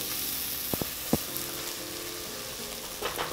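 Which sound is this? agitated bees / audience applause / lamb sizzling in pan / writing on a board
lamb sizzling in pan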